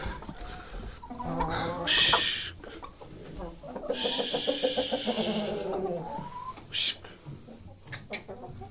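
Several hens cluck and cackle nearby, rising into bursts of excited calls as they are chased out of a farm building, with rustling and scuffling movement around them.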